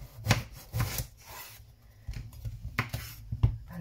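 A knife cuts an aubergine on a wooden board, making a few close, dull thuds and crunchy chops with some rubbing and handling noise between them.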